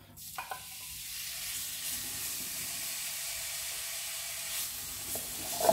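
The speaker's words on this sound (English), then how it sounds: "Here it's sizzling in the pan" Chicken sizzles steadily in a frying pan with a soft, even hiss and a few faint clinks, heard up close without talk.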